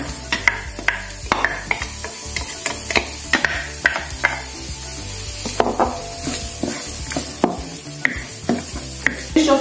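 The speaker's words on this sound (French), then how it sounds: "je vais mettre l'oignon pour faire revenir les oignons" Onions sautéing in a hot pan for shrimp fried rice: a steady loud sizzle with frequent sharp scrapes and clicks of a utensil stirring, close up and without speech.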